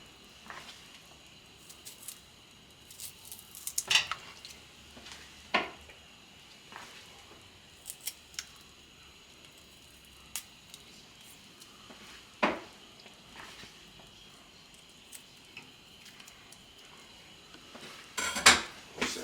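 Knife knocks on a board and dishes clink sparsely as ingredients are cut in half for a seafood boil, faint scattered taps and clatters separated by quiet pauses.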